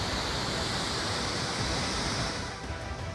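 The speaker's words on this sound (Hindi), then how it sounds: "भारी बारिश की वजह से नदियों नालों में पानी किस कदर उफान मार रहा है" Swollen rivers and drains in flood after heavy rain in Aurangabad, Maharashtra, give a loud, continuous roar of rushing water, a dense steady hiss that fills the scene and eases slightly near the end.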